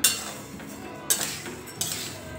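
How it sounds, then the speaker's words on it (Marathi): Rice dry-roasting in a pan over a low flame while being stirred, with a soft scraping bed under three sharp metallic clinks of a spoon against the pan. "आता हे सगळे तांदूळ मी असेच मंद आचेवर व्यवस्थित असे भाजून घेते"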